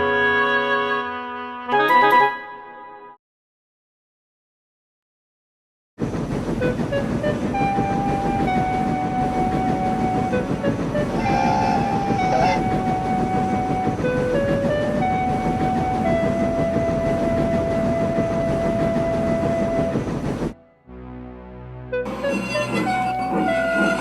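A steam train chugs along steadily with rhythmic clatter, and a long, high whistle sounds several times over the running engine.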